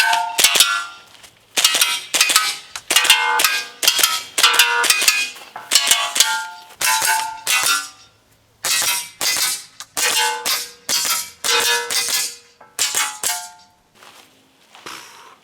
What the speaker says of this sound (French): on peut faire des tirs sur des plaques d'alu